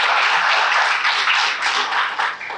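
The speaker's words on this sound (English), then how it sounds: "You can applaud for them." Applause at a district council meeting for the IT department, a steady dense patter of clapping hands that stays loud and even for a couple of seconds without talk.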